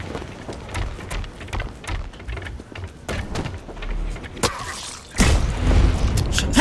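Sniper rifle shots in the first-person shooter Blacklight Retribution, heard as deep booming reports among scattered thuds and game noise, with a louder burst of action near the end and no talking.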